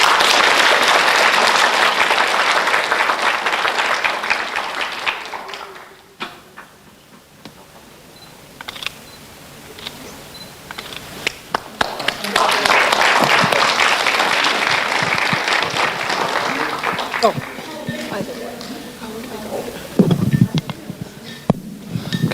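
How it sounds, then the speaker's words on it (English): Audience applause at a youth award event in Toronto, loud sustained clapping that dips into a quieter lull midway, then swells again with scattered sharp claps and camera-like clicks near the end. "Give Team J a round of applause"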